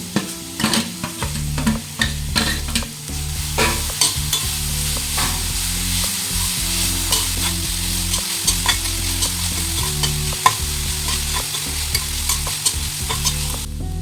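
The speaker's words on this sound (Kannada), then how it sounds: "ಇನ್ನು ಆವಾಗಲೇ ತುರ್ಕೊಂಡಿರುವಂತಹ ನೆಲ್ಲಿಕಾಯನ್ನು ಹಾಕ್ಕೊಳ್ತಾ ಇದ್ದೀನಿ" Grated gooseberry frying in a pan while a spoon stirs it, steady loud sizzling broken by repeated scraping strokes and light knocks against the pan, with no voices.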